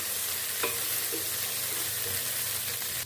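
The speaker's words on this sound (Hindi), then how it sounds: "अब इसमें हम लहसुन अदरक और ये हरी मिर्चें कुछ वो डाल लेंगे। इसको भी हम 2 मिनट फ्राई कर लेंगे।" Garlic, ginger and green chillies fry in a pan with a constant close sizzle and occasional stirring scrapes.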